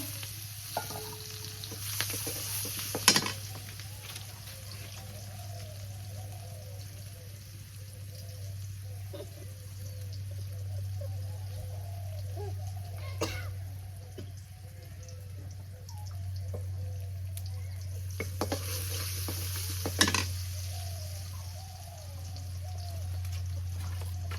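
Onions frying in a pan in a village kitchen, a steady low sizzle with occasional stirring clatter and brief drips, fairly quiet and continuous over a constant background hum.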